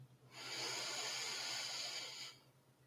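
A single deep inhalation is drawn close to the microphone during a guided breathing exercise, a long soft airy hiss lasting about two seconds over a faint low hum.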